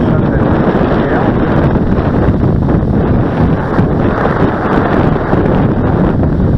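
Strong, steady wind roars and buffets the microphone on a beach while a model aircraft is launched, a loud continuous rumble with no pauses.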